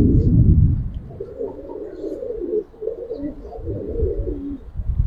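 Giribaz and Khaki pigeons cooing in a loft, low throaty rolling coos repeating close by, with a heavy low rumble at the start and no talking.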